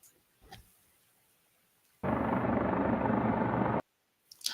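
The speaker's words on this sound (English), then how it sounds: "Let's pull this drone video up." A drone flying over people gives a loud, steady buzzing whir that cuts in abruptly, holds for about two seconds and stops just as suddenly.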